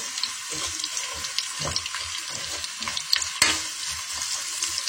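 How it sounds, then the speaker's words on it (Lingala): Onions frying in hot oil, a close, continuous crackling sizzle broken by a few sharper stirring clinks against the pot. "nakoya kotia na mafuta natiaki moto makasi te po matungulu ezika te"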